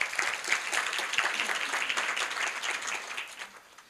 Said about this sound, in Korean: 스카이랩 엔터테인먼트의 신재호 대표를 박수로 맞아주시기 바랍니다